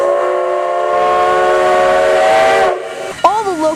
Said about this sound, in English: He sends the train off and we're on our way.